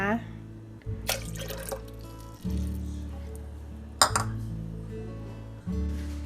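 Plain water poured into a cup for Thai mini moon cake dough, trickling and clinking in short pours close by while someone speaks over it.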